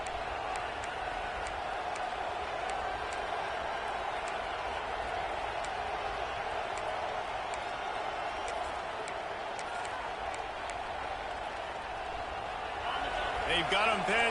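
Stadium crowd at a Kentucky football game, a broad steady roar that holds throughout and swells slightly near the end, with faint thumps and a commentator talking over it.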